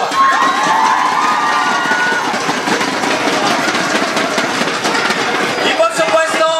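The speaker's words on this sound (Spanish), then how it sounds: "Un fuerte aplauso para Alcarnet Jova!" A crowd at the TMDay Mallorca 2018 event cheers and applauds loudly and without a break, with shouting voices and dense clapping all through.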